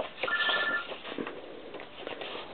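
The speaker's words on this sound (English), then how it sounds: "There goes my phone again." A phone ringing at the beach, with a short electronic ringtone melody near the start followed by faint rustling and handling noise.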